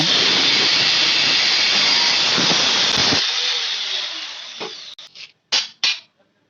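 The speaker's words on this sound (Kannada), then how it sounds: "ಈ ಆಂಗಲ್ ಕಟ್ ಮಾಡಿಬಿಟ್ಟು" A power tool cuts through a steel angle on a grass cutter build, giving a loud continuous hissing whine for about three seconds. It then winds down, followed by a few short bursts of cutting.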